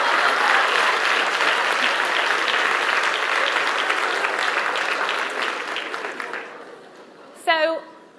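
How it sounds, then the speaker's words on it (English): Audience at a TEDx talk in Manchester bursts into sustained applause that tapers off over several seconds, followed by a brief spoken word as the clapping dies away. "Big round of applause."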